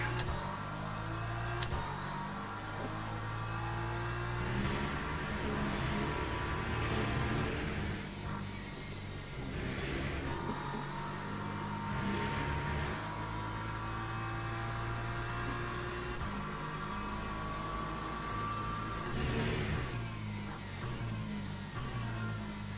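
GT3 race cars in Le Mans Ultimate at a race start at Silverstone National, a dense 44-car field whose engines drone and rise together as a steady loud roar with shifting pitch, running continuously throughout.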